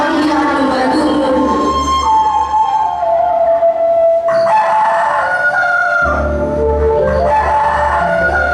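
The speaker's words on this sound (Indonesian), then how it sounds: "bunyikanlah suara ayam berkokok" A recorded rooster crow plays loudly as a sound effect during a school stage drama of the Tangkuban Parahu legend, mixed with siren-like tones and a low hum from the sound system.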